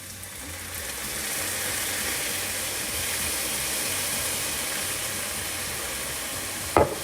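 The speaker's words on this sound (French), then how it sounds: "On va mettre la sauce soja. Ils disent 3 cuillères à soupe." Soy sauce hits a hot frying pan of vegetarian caramel pork and sizzles steadily while being stirred, a continuous close hiss with a brief clatter of a utensil near the end.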